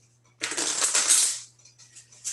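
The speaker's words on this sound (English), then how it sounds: "what I'm hoping you'll do is one strong riffle shuffle" A half deck of 25 playing cards is riffle shuffled in one strong, close burst of fluttering clicks, about a second long, followed by faint handling sounds.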